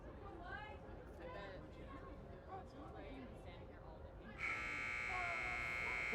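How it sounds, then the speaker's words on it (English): The end-of-half buzzer at a women's rugby sevens match sounds as a sustained, loud electronic tone that cuts in late, after crowd noise and chatter from players and commentators. "The buzzer does go."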